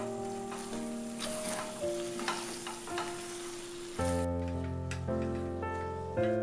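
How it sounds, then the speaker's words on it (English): Bottle gourd sizzles steadily as it fries in a pan, a constant crackling hiss that runs throughout beneath prominent background music, with a brief louder surge near the end. "I have half fried the bottle gourd"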